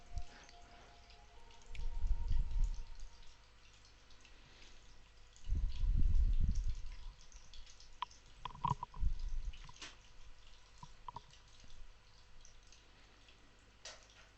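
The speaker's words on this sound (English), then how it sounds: "Oh, it's raining. Excellent." Rain falling in the space-program strategy game Mars Horizon: a soft, steady patter with occasional drips, swelling into a few low rumbling surges, heard alone without talk.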